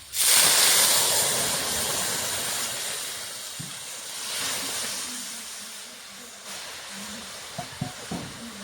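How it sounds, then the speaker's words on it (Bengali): Lentils tipped into a pan of fried onion and garlic give a loud hissing sizzle that slowly fades to a softer simmering hiss, with a few light clinks of a utensil near the end. "আমার পেঁয়াজটা রসুনটা লাল লাল করে ভাজা হয়ে গেছে। এখন আমি ডালটা দিয়ে দেবো"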